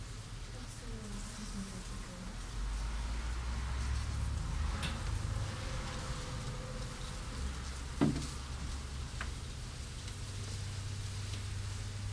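A low, steady honey bee buzz drones throughout, like a swarm nearby during removal of a colony from inside a house, with a few faint clicks and soft background noise.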